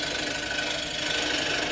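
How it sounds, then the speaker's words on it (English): Small asymmetric curved scraper drawn gently across wood while shaping a spatula, giving a steady, close, dry rasping hiss through the whole short stretch. "And now this small asymmetric curve scraper, and nice and gently."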